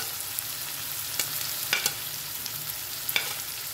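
Chopped tomato fries with garlic paste and spices in a pan for chola bhuna, giving a soft continuous sizzle punctuated by several sharp spatula clicks and scrapes, close and moderately loud with no voices.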